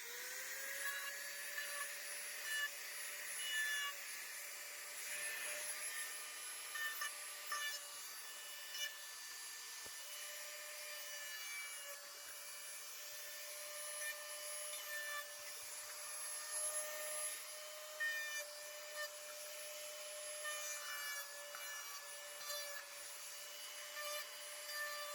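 Continuous abrasive sanding of a 45-degree bevel along the inside edge of a holster, a close, steady machine-like whir with scraping friction that rises and falls slightly over a long stretch, with no talk.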